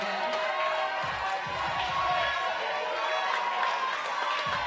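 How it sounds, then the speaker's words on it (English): Australian university supporters from UTS and Macquarie cheer at a 3x3 basketball final, a steady crowd roar with whoops and shouts held throughout, loud and continuous with voices mixed in. "The Aussie team cheering for the Kiwis."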